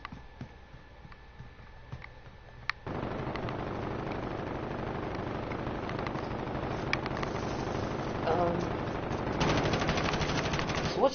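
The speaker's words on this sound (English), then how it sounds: "Let's just do one like this where we're all just full auto." Full-auto light machine gun fire in a video game rattles in a long continuous burst that grows louder and denser after a quieter opening stretch.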